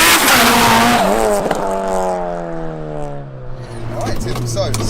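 An 1100hp sequential-gearbox Mitsubishi Evo race car pulls hard in second gear, its engine note climbing steadily in a loud, continuous rising whine from inside the car, with voices speaking over it.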